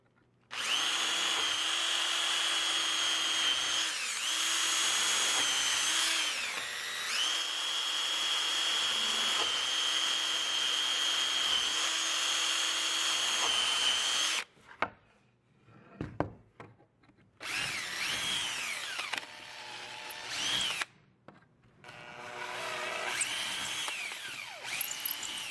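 Power drill boring holes through a wooden blank guided by a template, a loud steady whine for most of the span, then stopping and restarting in shorter bursts with quiet gaps between.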